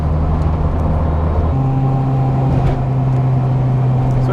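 A Honda Civic EG hatchback with a USDM GSR B18C1 engine runs under load, a loud, steady engine drone whose pitch steps up partway through, heard from inside the car.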